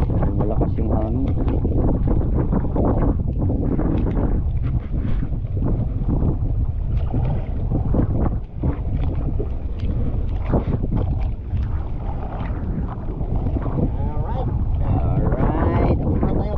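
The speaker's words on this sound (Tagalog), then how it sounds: "Wow, malakas yung hangin." Strong wind roars and buffets across the microphone aboard a fishing boat at sea in stormy weather, a steady loud rush with gusts and rumble throughout, while people talk intermittently underneath.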